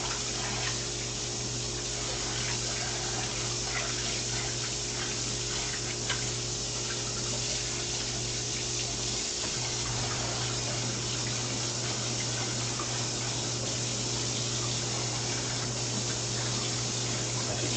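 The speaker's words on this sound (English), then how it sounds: "just give this a quick wash here" Pork chops get a quick rinse under a running kitchen tap, a steady, even rush of water that continues unbroken throughout with a low background hum and no talking.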